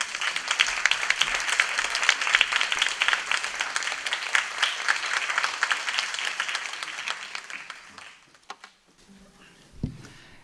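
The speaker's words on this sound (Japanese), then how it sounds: "拍手でお迎えください。" Audience applause welcoming a guitarist on stage at a concert hall, dense steady clapping that fades out after about eight seconds.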